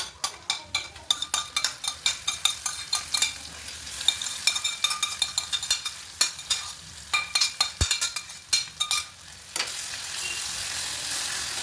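Tomatoes fry in a pan, a steady close sizzle broken by many quick clattering stirs and scrapes in irregular runs, with no speech.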